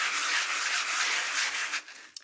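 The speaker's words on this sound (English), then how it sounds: "Just gonna do a little sanding now." Steady, dry rubbing hiss of hand sanding, close and continuous for about two seconds before it stops, followed by a faint tap.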